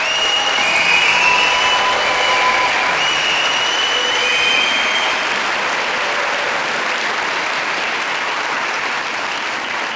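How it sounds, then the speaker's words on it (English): Loud, dense applause from a concert audience for young ukulele players, sustained evenly across the whole stretch with a faint murmur of crowd underneath. "So ladies and gentlemen, can you give our ukuleles a huge round of applause?"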